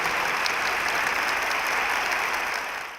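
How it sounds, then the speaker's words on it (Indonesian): A campus audience at a Kick Andy talk show taping breaks into loud, dense applause. The clapping holds steady for about three seconds, then begins to fade. "ya tepuk tangan yang kencang"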